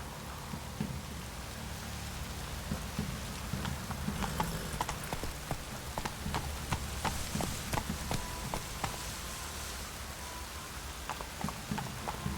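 A horse gallops in The Witcher 3, its hooves clopping in a fast steady rhythm under a constant hiss like rain, loud and continuous for the whole stretch.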